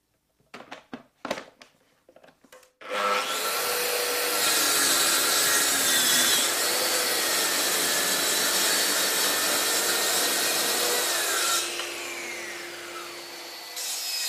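A Mafell MT55cc plunge saw running on its guide track is heard first in a few brief clicks and knocks. The motor then starts and cuts through a board with a loud, steady whine for about nine seconds before spinning down, with no talking.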